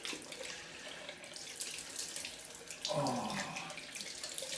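A bathroom tap runs steadily for a cold rinse after a straight-razor shave, the flow thickening partway through as water splashes into the sink; a brief exclamation is heard.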